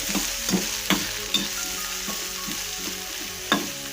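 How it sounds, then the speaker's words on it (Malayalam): Sliced onion and finely chopped chillies frying in oil in a pan for a prawn pot roast: a steady close sizzle with regular scraping stirs of a spoon against the pan, and no voices. "സവോള ഇട്ട് കൊടുക്കാം. അതേപോലെ തന്നെ മുളകും, ചെറുതായിട്ട് അരിഞ്ഞ മുളകും ഇട്ട് കൊടുക്കാം."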